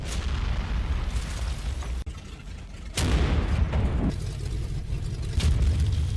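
Incoming fire exploding in the Combat Mission war game, several heavy booms and bursts that set off rumbling tails, loud and layered over a steady low battle din.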